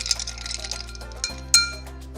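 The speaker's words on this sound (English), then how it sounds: "You want to stir it maybe about 10 to 20 seconds until you feel the outside getting chilled." Ice clinking against a mixing glass as a lemon-based cocktail with simple syrup is stirred, a steady soft rattle with one sharper clink near the end, close and alone.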